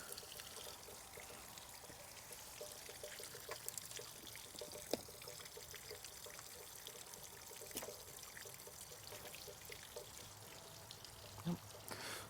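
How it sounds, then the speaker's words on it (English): Engine oil pouring into a 40 or 50 hp Tohatsu outboard motor during a service, a faint steady trickle running continuously with a few small knocks, quiet and close with no talk. "let all that oil drain in"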